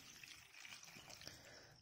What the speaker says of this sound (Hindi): तो उसमें पानी डाल देते हैं।